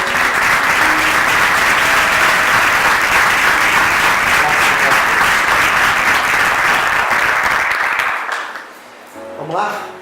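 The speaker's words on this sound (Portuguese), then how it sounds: "Vamos aplaudir o Senhor." Church congregation applauding together at a worship service, a loud, dense, steady clapping that fills about eight seconds before fading out, followed by a few faint voices.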